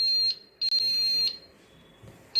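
Shrill electronic buzzer from a road pothole and hump detection device, sounding in two long high-pitched beeps with a short gap, then a brief start of another, loud and close.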